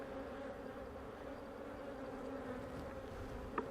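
Honeybees buzzing around an open beehive during a hive inspection, a steady low drone of many wings close by, with a brief knock near the end.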